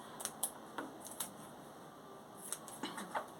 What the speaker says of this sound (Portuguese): vamos cortar o excesso do zíper.